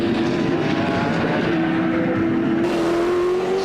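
A loose under tray flapping beneath a race car at speed during the 1997 Sandown 500, heard as dense rattling buffeting buried in loud, steady engine drone that rises slightly in pitch.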